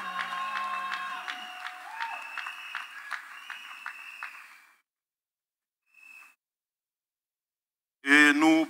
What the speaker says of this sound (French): Continuons à applaudir.